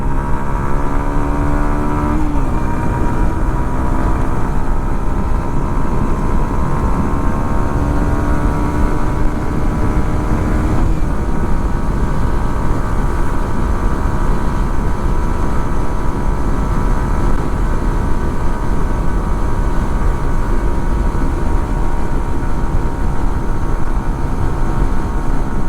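A Yamaha XSR 155 motorcycle engine droning steadily and loud on an open road, its pitch climbing through the revs in fourth gear, dropping at a gear change, then rising again amid heavy wind roar.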